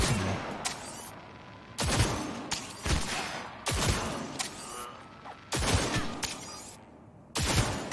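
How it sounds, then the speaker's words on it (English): Gunfire from the video game Cyberpunk 2077: four loud volleys of rapid shots, each about a second long, arriving roughly every two seconds with quieter rumbling gaps between them. "I am taking fire."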